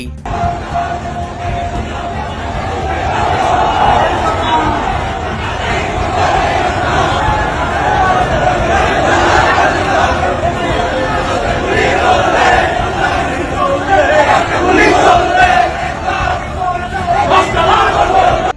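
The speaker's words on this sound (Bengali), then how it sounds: "লক্ষ লক্ষ মানুষের কণ্ঠে একই স্লোগান" A huge political rally crowd in Bangladesh, masses of voices chanting the same slogan together, a dense, loud, continuous roar of shouting that holds steady throughout.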